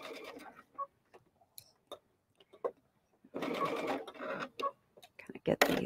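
A sewing machine stitches soft Cuddle plush fabric for a sack, with short intermittent bursts of stitching that lead into a longer steady run down the seam, recorded close indoors.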